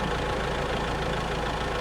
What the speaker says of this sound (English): And you can see I'm sitting here at idle, and it didn't even come off idle.